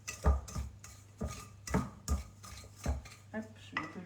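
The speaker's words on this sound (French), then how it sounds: "je suis en train de mélanger" Soft butter being mixed in a bowl for a chocolate marble cake, a spoon or spatula knocking and scraping the bowl in regular strokes, close and fairly quiet.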